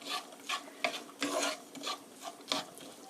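Meat and vegetables sizzle and scrape in a pan as a utensil stir-fries them in quick irregular strokes, fairly quiet and close.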